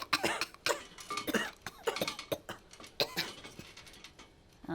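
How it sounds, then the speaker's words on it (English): Repeated short coughs come in irregular bursts, fairly close and moderately loud, with brief pauses between them. "Oh no, they have a cough."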